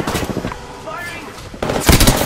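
Rapid automatic gunfire from an Apex Legends match, loud and dense, crackling in bursts over busy game sound with a brief pause before a heavier burst near the end.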